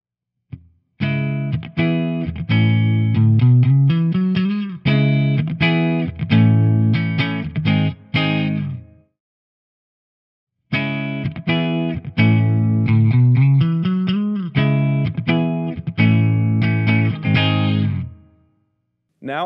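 A Michael Kelly Hybrid 55T electric guitar with its neck pickup split to single-coil plays two clean, slightly chorused phrases of plucked notes and chords, with a pause between them.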